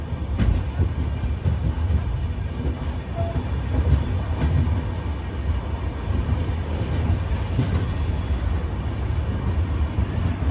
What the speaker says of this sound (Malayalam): ട്രെയിൻ ഇതാ എറണാകുളം ജംഗ്ഷൻ റെയിൽവേ സ്റ്റേഷൻ്റെ പ്ലാറ്റ്ഫോം നമ്പർ 4 എത്തിക്കൊണ്ടിരിക്കുകയാണ്